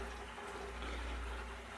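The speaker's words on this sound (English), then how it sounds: "I'm trying to fill up the tank till." Water pours steadily into a Red Sea 425xl aquarium tank, a constant rushing, splashing fill with no break.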